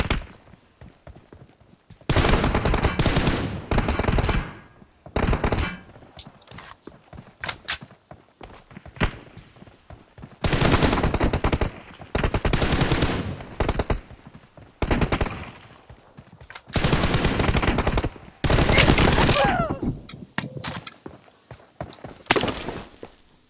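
Gunfire in the mobile battle-royale game PUBG Mobile comes in repeated loud bursts of rapid automatic shots separated by short quiet gaps, with a few single cracks in between.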